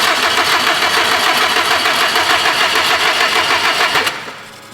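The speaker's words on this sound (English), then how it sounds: "go ahead, crank it over. It is not gonna start because the crank sensor's unplugged" A car engine cranking over without starting while its crank sensor is unplugged: a loud, close, steady whirring rhythm from the starter that runs for about four seconds and then cuts off abruptly.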